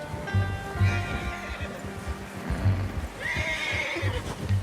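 A horse in the video game Red Dead Redemption 2 whinnies twice over a muffled clip-clop of hooves, with a low rumbling background throughout.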